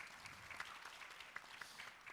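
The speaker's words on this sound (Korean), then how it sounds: "박수 한번 주시기 바랍니다" An audience at a lifelong learning city forum gives a brief round of applause for a speaker. The clapping is faint and distant and lasts about two seconds, with no voices.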